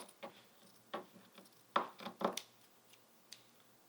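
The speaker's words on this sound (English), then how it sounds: "use your scissors to just take that little bit of extra off" A few quiet, scattered snips of scissors trimming fabric for a craft gnome, irregular and close, with soft handling noises between cuts.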